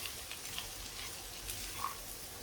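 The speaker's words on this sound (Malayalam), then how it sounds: "അതും കൂടെ ചേർത്ത് നന്നായിട്ട് മിക്സ് ചെയ്യാം." Roasted broken wheat stirred into vegetables frying in a pan, giving a steady soft sizzle with faint scraping of the spoon throughout.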